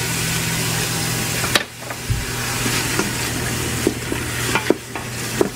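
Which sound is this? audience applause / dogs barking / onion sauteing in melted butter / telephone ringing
onion sauteing in melted butter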